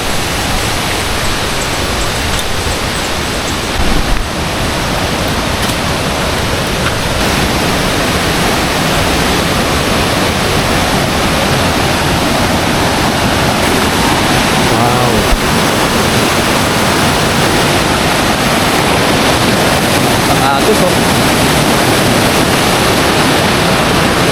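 A river rushes continuously on a hike to Bukal Falls, a dense broadband wash like a fast river or small falls, loud and close, with occasional faint voices buried underneath.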